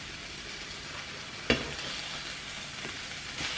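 Halloumi fries in a pan with a steady, even sizzle throughout, broken by one sharp clack near the middle and a few faint taps.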